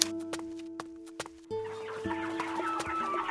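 Farmyard chickens cluck in a busy barnyard, a few sharp isolated clucks at first, then a denser, continuous run of overlapping fowl calls that stays fairly loud and close.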